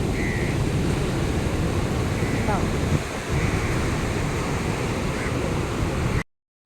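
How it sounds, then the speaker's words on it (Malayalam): Strong wind roars and buffets the microphone at Shanghumukham beach, a constant loud rush with surf-like swells, cutting off abruptly at the end. "നല്ല കാറ്റ്"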